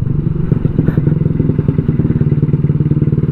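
A Honda Vario motorcycle engine revving hard while being ridden, a loud, close, steady pulsing drone with fast regular engine beats and some rattly clatter throughout.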